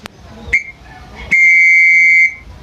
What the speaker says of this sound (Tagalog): So, ito ang ating pito para doon.